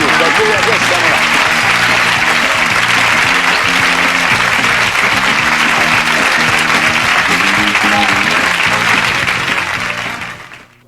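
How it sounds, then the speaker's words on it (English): A game show studio audience applauds a contestant with loud, sustained clapping over a musical tune and a voice, fading out at the end. "But right now, applause for you."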